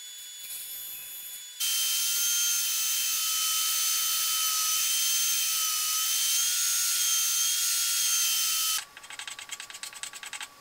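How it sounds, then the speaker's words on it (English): A bandsaw cutting a wooden bun foot for a buffet, a loud steady high whine that holds for about seven seconds and then drops to lighter running with faint clicks. "I'm going to cut that out on the bandsaw."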